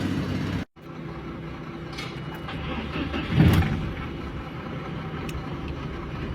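A VAZ 2114 car engine idles steadily, checked for a rich mixture and black smoke, with a brief rise in engine noise partway through and no talk over it.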